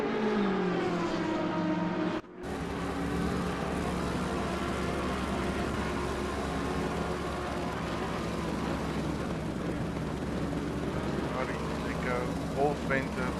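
Old-school race cars lap the Monza track in a racing league event, with a dense, continuous engine roar from multiple cars carrying on under race commentary.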